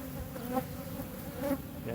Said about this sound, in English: I'm sorry if the bees are loud. They're right after a swarm.